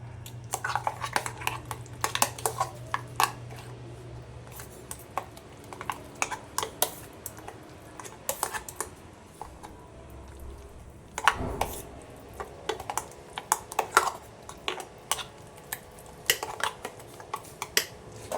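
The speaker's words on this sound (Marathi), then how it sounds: "हलवून घ्यायचं अशा पद्धतीने" A spoon stirs cake batter in a metal pot after a pinch of soda is mixed in, giving irregular clinks and scrapes that come close and fairly loud, with short pauses between bursts.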